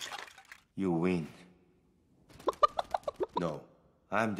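Chicken clucking in a Lego Ninjago animated short: a quick run of sharp, rhythmic clucks between stretches of cartoon voices.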